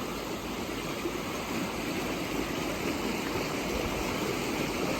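Swollen creek in Knott County, Kentucky rushes after heavy rain, a steady, dense roar of churning water heard close and unbroken throughout, with no voices.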